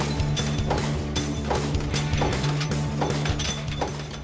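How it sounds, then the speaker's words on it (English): A punch press stamps steel brake backing plates from coiled sheet in a factory, giving a fast, regular metallic clatter of repeated strikes over a steady mechanical hum, close and continuous with no talk. "The backing plates start out as large coils of steel, which get loaded into a punch press which quickly stamps out the shape of the plate."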